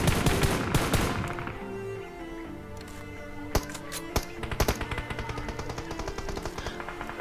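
Automatic gunfire in the mobile shooter BGMI is aimed at a buggy's tires: rapid bursts of close, sharp shots, dense at first, then spaced single cracks and short volleys.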